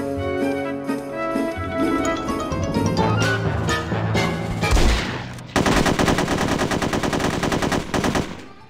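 Rapid automatic gunfire in the shooter game No One Lives Forever 2, loud and continuous over game music, with a dense sustained burst of fire in the last three seconds.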